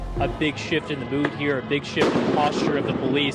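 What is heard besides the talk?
explosions during police clearing protesters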